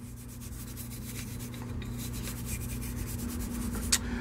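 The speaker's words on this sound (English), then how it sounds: "So the slide, just going to give a little scrubbing here," Steady dry scrubbing along the rails of a Sig P320 AXG Pro pistol slide during a deep cleaning, a continuous close brushing rasp with no talk over it.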